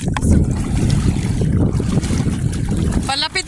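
Strong wind ahead of approaching rain buffets the microphone in loud, rumbling gusts on a seashore, with faint voices and a brief high squeal near the end.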